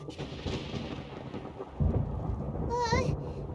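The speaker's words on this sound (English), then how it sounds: "Where is the storm headed?" A thunderstorm in Genshin Impact rumbles as a deep, continuous roll of thunder that swells midway, with rain hiss behind it and a brief high whooshing tone near the end.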